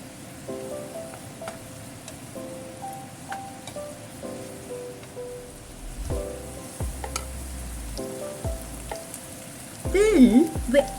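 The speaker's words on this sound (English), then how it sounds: "Then stir fry, mix everything. Stir fry a little bit." Chicken casserole ingredients stir-fried in a pan, a soft steady sizzle with scraping and stirring noises that grow louder and busier toward the end; a voice is faintly present.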